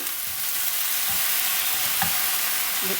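Red bell pepper and tomatoes fry in a pan for a capsicum chutney, giving a steady, close, even sizzle throughout with a few faint stirring scrapes.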